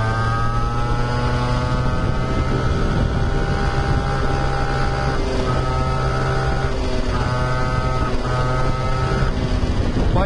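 A Birel 85cc go-kart engine runs steadily and loudly throughout, a continuous buzzing drone whose pitch rises and dips with throttle changes, hinting at a small carburettor tuning fault.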